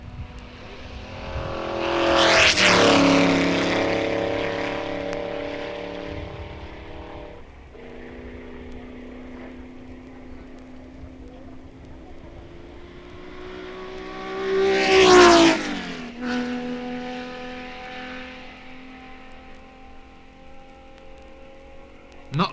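Racing cars at Le Mans in 1964, Ferraris among them, shift gears on the stretch from Mulsanne to Indianapolis, engine notes climbing and dropping with each change. Two loud close passes come with sweeping pitch, and the engines drone steadily in between.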